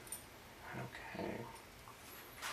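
A puppy kept in a garage whimpers in a few soft, brief whines, fairly quiet against faint background noise, with no talking.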